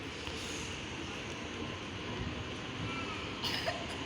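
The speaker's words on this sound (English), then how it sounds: "We've got a freight train passing platform number 3." A freight train hauled by locomotives rumbles past platform 3 at Broadmeadow station in rain and wind, a steady low roar with rolling rail noise close by and a brief sharper burst near the end.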